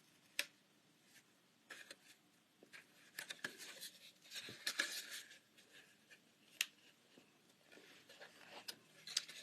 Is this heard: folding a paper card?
yes